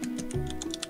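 Typing on a computer keyboard, quick light clicks in an uneven rhythm, close and fairly quiet, with faint background tones and no talking.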